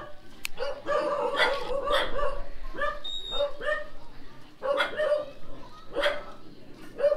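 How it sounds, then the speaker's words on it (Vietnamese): Several dogs bark and yip repeatedly around a house in Vietnam, fairly close and loud in short bursts, with people talking in the background between the barks. "Nhà nuôi chó nhiều dữ ha"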